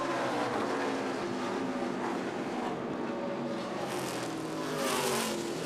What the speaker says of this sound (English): That was an incredibly fast lap that Brent Cruz ran just now